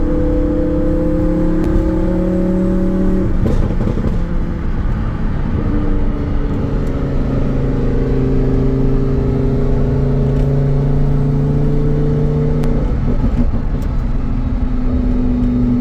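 Lamborghini Huracan with gutted catalytic converters and a flame tune, its engine idling and revving steadily while warming up, a loud sustained rumble with rising and falling tones and a brief blip near the middle, no talk.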